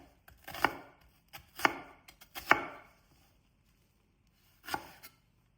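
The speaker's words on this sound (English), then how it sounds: "Now I'm chopping one big onion." A big onion is chopped with a knife on a board in a home kitchen while a cabbage and ground beef one-pot meal is prepared, four sharp close chops in two bursts with a pause between them, no voices.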